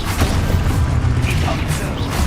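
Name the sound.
Expulso explosion spell in the video game Hogwarts Legacy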